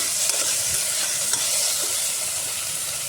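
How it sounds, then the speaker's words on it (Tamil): Vegetables fry in oil for a hotel-style vegetable biryani, giving a loud, steady, hissing sizzle close by, with faint stirring scrapes and no talk. "நல்லா வதக்கி எல்லாமே நல்லா எண்ணெய் பிரிஞ்சு வரணும்"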